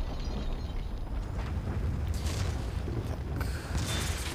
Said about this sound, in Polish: bo to wybuch, ten, ta bomba wybuchła